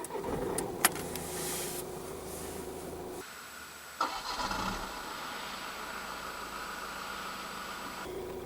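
A 2008 Audi A3 2.0 TDI 140 diesel is started with the clutch pressed: a cranking burst fires up into a steady idle, recorded close by with no talking.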